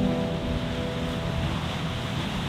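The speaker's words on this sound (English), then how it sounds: "You can see that the waves get quite strong." Strong sea waves surge and wash along the Norwegian coast, making a loud, steady roar of surf mixed with wind buffeting the microphone, with no voices.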